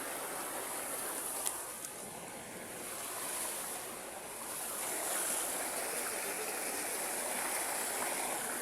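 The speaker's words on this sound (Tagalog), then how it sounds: "si Tito naligo na sa ilog" Continuous broadband rush of a flowing river, steady and fairly loud throughout, with no voices or other distinct sounds.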